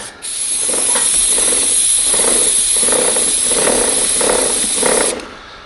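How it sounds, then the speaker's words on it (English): A spray can of cleaner hisses in one continuous burst lasting about five seconds, close and loud, with a faint pulsing in the spray, while working on an RM 125 motorcycle. "I'm just going to spray a little bit on it."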